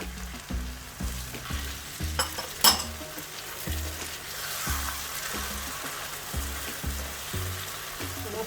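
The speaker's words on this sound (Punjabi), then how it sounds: "ਆਪਾਂ ਇਹਨੂੰ ਚੰਗੀ ਤਰ੍ਹਾਂ ਟਮਾਟਰਾਂ ਨੂੰ ਵੀ ਅਦਰਕ ਲਸਣ ਨੂੰ ਸਾਰੇ ਕੋਸੇ ਨੂੰ ਵਿੱਚ ਆਪਾਂ ਚੰਗੀ ਤਰ੍ਹਾਂ ਭੁੰਨ ਲੈਣਾ" Tomato, ginger, garlic and green chilli masala frying for chicken tikka masala, with a soft sizzle under rhythmic, repeated spoon scrapes and knocks against the pan, plus a brief louder clatter.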